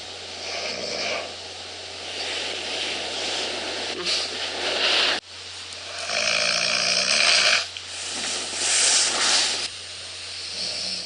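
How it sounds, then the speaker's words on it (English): A person snoring during sleep, played back from a recording: loud rasping breaths in long repeated cycles over a steady hum, with brief rustling between them. "On the nights that I do snore, the recording will show that the snoring sometimes wakes me up enough to rustle around or change positions"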